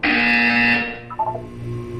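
A loud, steady electronic buzzer from the video game Portal 2 sounds alone for nearly a second, then cuts off, leaving a short tail of softer tones.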